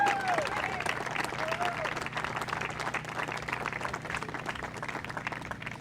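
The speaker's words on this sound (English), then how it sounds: "let's have a round of applause for Coach Newton." Crowd applause at a charity 5K run/walk event, steady clapping and a few cheers, moderately distant and fading slightly over time.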